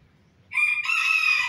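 After a brief quiet moment, a single cocoa-colored bantam rooster, a native chicken of Phetchaburi, Thailand, lets out one loud, close, drawn-out crow.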